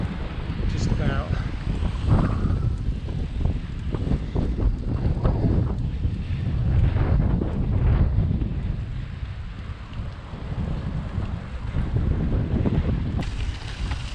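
Wind buffets the microphone of a cyclist riding at speed with a northerly tailwind, a constant loud low rumble that swells and eases over the whole stretch.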